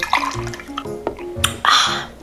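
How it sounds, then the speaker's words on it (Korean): Milk is poured over chocolate cereal in a bowl, short splashing and gurgling pours close to the microphone, ending in a brighter, longer pour. "우유 리필."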